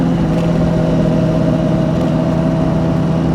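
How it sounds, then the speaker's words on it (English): A deep, throaty engine drone holds steady and loud, a sport motorcycle's loud exhaust rumbling nearby without pause. "Loud exhaust."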